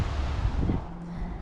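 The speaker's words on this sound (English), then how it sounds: "we apologize for the audio on this video because it's pretty windy" Low, steady rumbling buffet of wind hitting a microphone, continuous throughout with no voices.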